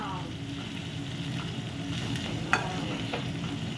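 Chopped tomatoes sauté in oil in a pan, a soft continuous sizzle with occasional scrapes and a sharp clink of the stirring spoon partway through.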